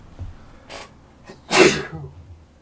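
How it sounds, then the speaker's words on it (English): A couple of quick breathy intakes lead into one loud, close sneeze, followed by a brief sniff. "I need to sneeze."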